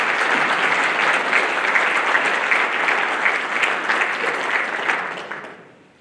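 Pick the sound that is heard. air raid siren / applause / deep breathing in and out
applause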